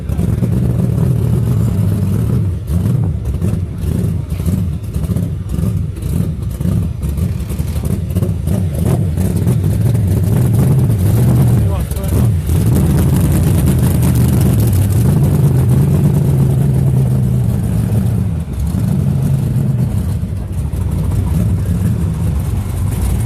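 Brisca F1 stock car engines revving at a Skegness race meeting, loud deep rumbling with repeated surges and throttle blips that go on throughout, close by, with some voices faintly underneath.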